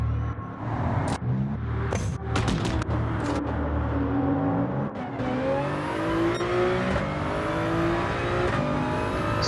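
Race cars in Gran Turismo 7 pull out of the pits into a pack during a daily online race, engines revving and shifting loudly and continuously with tire noise, no talk over them.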